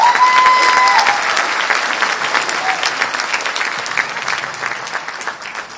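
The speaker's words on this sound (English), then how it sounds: "let's give a big round of applause to ShopUp" Audience applause at a startup event, greeting the company ShopUp: loud, dense clapping from a large crowd that starts strong and slowly thins over several seconds, with no voices over it.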